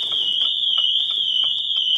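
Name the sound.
Pandora car alarm going off on an Abarth 595 Competizione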